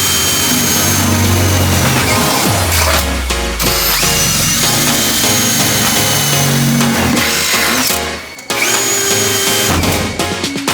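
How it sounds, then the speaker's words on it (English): A power drill bores holes through the floor of a grandpa-owned Toyota LandCruiser, giving a loud, continuous whine that shifts in pitch as it bites into the metal, with a brief stop near the end before drilling resumes. "now we've got to go and drill holes through the actual floor and mount all the bolts"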